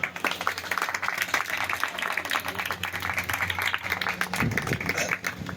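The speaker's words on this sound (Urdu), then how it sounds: "بھائی کے لیے بہت سی تالیاں" A church congregation applauding, heard as a dense, steady wash of many hands clapping that carries on for several seconds, moderately loud and filling the room, with no talking.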